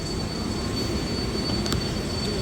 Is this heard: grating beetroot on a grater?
no